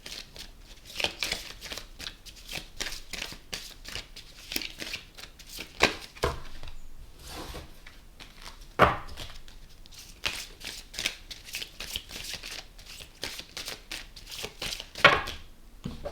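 Oracle cards for a love reading are shuffled repeatedly in hand, a steady run of soft riffling and slapping strokes with a few sharper snaps, close and alone without talk.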